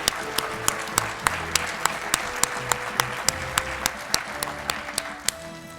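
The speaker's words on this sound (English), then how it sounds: "They deserve another round of applause." Audience at a town centennial celebration applauding, a crowd's clapping with sharp individual claps standing out in a loose steady rhythm, moderately loud and close, with faint background tones underneath.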